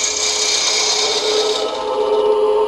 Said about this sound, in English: Using a spindle gouge,